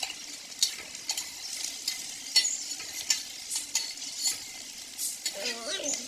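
Onions and garlic sauté in a pan with a soft, steady sizzle, broken by scraping stirs and light clinks of a utensil against the pan, fairly quiet and close.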